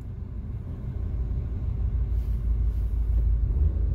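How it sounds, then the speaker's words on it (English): A 2012 Nissan Versa with a transmission fault revs in park, a low, close engine rumble that swells slightly and holds at a steady drone, with no speech. "if you put it in park or neutral and rev it up, the engine revs up no problem."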